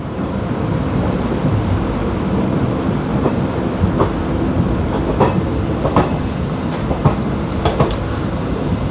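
A passenger train rolls along the rails between Bolangir and Sonepur, a steady loud rumble heard from onboard with repeated clickety-clack wheel beats over the track joints and no talk.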